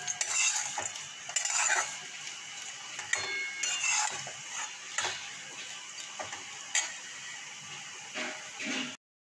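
A utensil stirs potato fry sprinkled with poppy seeds in a pan, giving repeated close scraping and clinking against a soft sizzling background, with no talk.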